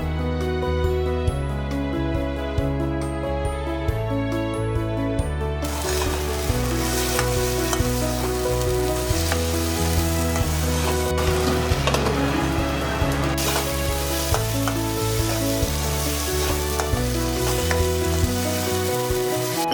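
Tomato paste sizzling in a pan as it is stirred into a masala with fresh cashews for a Konkani-style dish, a steady close frying hiss under background music, louder after the first few seconds.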